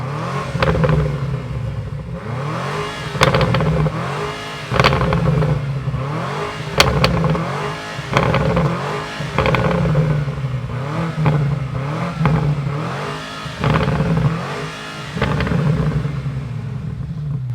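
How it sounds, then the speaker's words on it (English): A powerful V8 engine of a 2025 BMW M5 Touring estate car revs hard over and over from the outside, loud throaty bursts rising and falling on a steady rumbling idle, with no voices. "listening to the sound of the all new M5 Touring from the outside"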